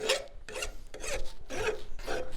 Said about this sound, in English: I'm getting the surface off, but I actually can't touch it with a file.